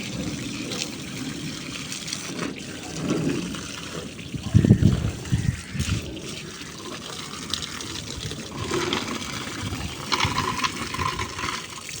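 A pipe sprays water onto rooftop garden plants, giving a steady gushing trickle with a louder splashing burst near the middle, while a voice talks over it.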